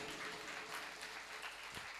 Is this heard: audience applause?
yes